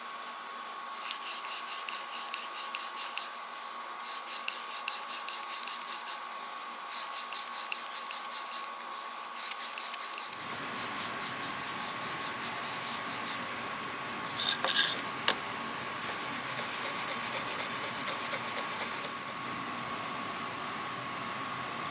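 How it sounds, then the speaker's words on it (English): Super fine gray abrasive pad rubbed over a vintage Great Neck G-Series metal screwdriver, giving a steady scratchy rasp of quick back-and-forth strokes that fills the whole stretch, fairly close and moderately loud, with no one talking. "abrasive pads. See what that does."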